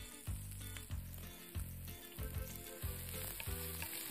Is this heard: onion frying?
yes